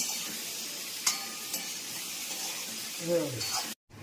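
Sugar and spices being stirred into cooking vegetables in a pan, a quiet sizzle with a couple of sharp scrapes and a short voice near the end before an abrupt cutoff.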